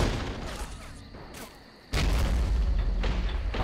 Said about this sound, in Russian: Похоже, он пушечкой по первому стреляет, а?